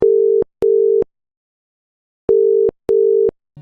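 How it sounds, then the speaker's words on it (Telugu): A telephone rings with a steady electronic tone in two pairs of short double bursts separated by a pause. The rings are loud and clear, with no voices. "టీ కప్పులో పోస్తుండగా ఫోన్ మోగింది."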